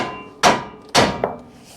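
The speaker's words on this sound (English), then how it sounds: "Use your big 3-pound hammer." A big 3-pound hammer strikes the lower ball joint on a 2004 Ford F150 three times: two loud, sharp metallic blows about half a second apart, then a lighter third hit, ringing briefly in a quiet shop.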